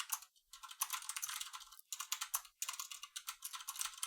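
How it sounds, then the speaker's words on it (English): Fingers type on a computer keyboard in quick, clicky bursts with brief pauses between them, close and fairly quiet, with no voices. "Typing is hard."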